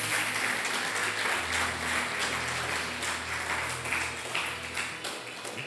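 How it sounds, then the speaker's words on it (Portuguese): A church congregation at a Sunday service claps together, a moderately loud, steady patter of many hands with a low hum underneath and slight rises and dips in intensity. "Aplauda o nome do Senhor Jesus Cristo."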